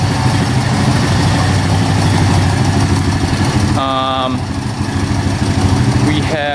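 A cheap plowing ATV engine runs at a steady idle throughout, loud and close, with a short high whine or beeping tone breaking in partway through.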